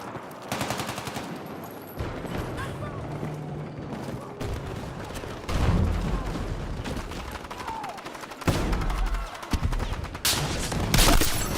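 Loud gunfire in a Battlefield 6 match with a sniper rifle, sharp cracks and rattling bursts at close range, mixed with mechanical clatter and heavy booms that come in waves over about twelve seconds.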